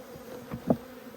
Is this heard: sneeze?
no